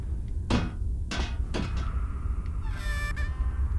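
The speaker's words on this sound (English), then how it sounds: "That drawer made a noise." A drawer in Amnesia: A Machine for Pigs slides open or shut with a couple of wooden scraping knocks, followed by a creaking rattle over a steady low game ambience.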